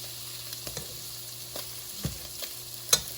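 Half a stick of Kerrygold butter melts in a hot pan beside searing sausage, giving a quiet, steady sizzle broken by a few soft pops and crackles, with no voices.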